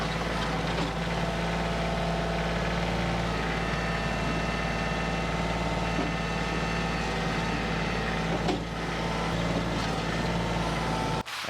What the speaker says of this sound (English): I'm gonna get the tractor.